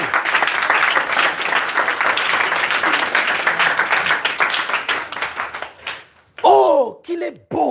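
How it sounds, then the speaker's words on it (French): A church congregation applauds with steady, dense clapping that fades toward the end, followed by a loud voice breaking in near the close. "Applaudissez pour les désordonnés."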